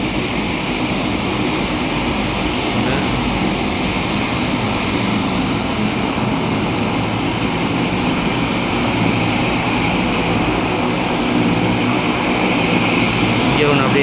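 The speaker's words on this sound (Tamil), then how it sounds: "சீ ஃப்ளைட் வந்து அங்கே ஒன்று கிளம்புது" A seaplane taking off in the Maldives drones continuously at full power for the whole stretch, its steady propeller and engine roar loud and unbroken, with no clear voices over it.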